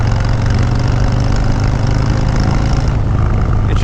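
A motorcycle engine runs close and loud with a dense, rough mechanical roar, holding steady throughout with a slight shift in tone near the end and no speech.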